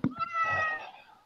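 A pet cat lets out a single long, rising-and-falling meow close by, loud and plaintive, starting with a brief thump and fading off at the end.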